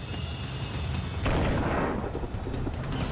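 A missile fired by South Korea into the sea near the North Korean border explodes. A sudden, loud roar of wide rushing noise bursts out and keeps rumbling over a dull low background.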